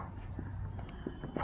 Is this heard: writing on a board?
yes